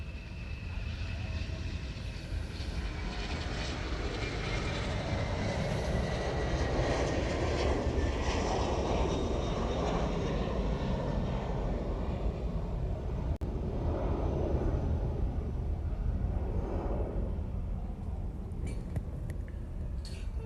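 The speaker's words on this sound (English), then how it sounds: "we're going to take this 717 leaving on the reef runway" A Boeing 717 departs on the reef runway at Honolulu airport, its jet roar sustained and broad throughout, swelling and slowly fading as it climbs away.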